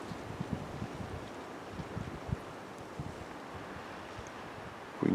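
Wind blowing through the woods during a deer hunt, a faint, steady rushing hiss with soft low gusts and a brief bump at the very end.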